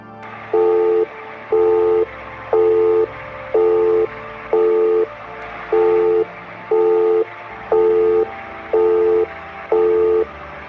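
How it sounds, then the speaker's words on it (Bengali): A telephone busy or disconnect tone sounds after a call is hung up, ten evenly spaced beeps about one per second over a faint hum, with no voices. "ফোনটা এবার কেটে দিল"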